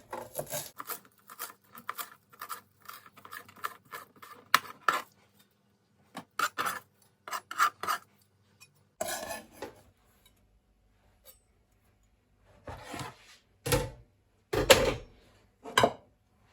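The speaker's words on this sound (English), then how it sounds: "So now I'm going to also rough chop my fresh parsley." Fresh parsley is rough-chopped with a knife on a board, heard as close, quick runs of crisp tapping cuts in short bursts, broken by quiet pauses and a few louder isolated chops toward the end.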